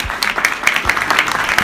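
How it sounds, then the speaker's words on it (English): An audience gives a lady speaker a short burst of clapping, brisk and close, lasting under two seconds. "we need to give this lady a round of applause"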